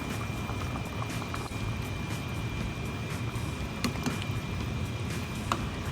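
Pork sinigang broth with long beans at a steady boil in a pot, a soft continuous bubbling hiss at low volume with faint clicks scattered through.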